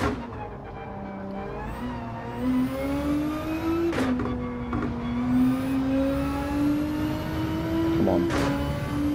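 A race car engine in Gran Turismo 7 on the Sardegna Reverse circuit, a sustained close whine that rises steadily through the gears, with brief upshift breaks and a long accelerating pull, no talk.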